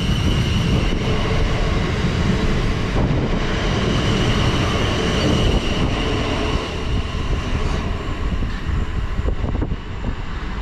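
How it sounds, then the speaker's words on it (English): South Western Railway passenger train from Reading to London Waterloo pulling out of a station on the Hounslow Loop Line, a loud, steady rumble and rail noise close by throughout. "departing out now is"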